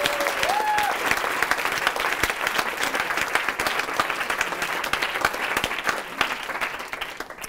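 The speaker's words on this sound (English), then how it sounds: "let's give them a round of applause" A conference audience gives a sustained, dense round of applause that fills the hall at steady volume and tapers slightly toward the end.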